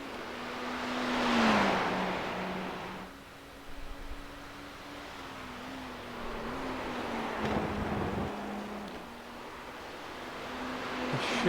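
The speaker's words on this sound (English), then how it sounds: "Comes the Corvette through the penultimate turn of lap 24, bring it towards the amazing lap 25." A Corvette races around Silverstone in a sports car racing video game, a sustained engine drone that rises and dips through gear changes and corners, with wind rush swelling around it and no voices.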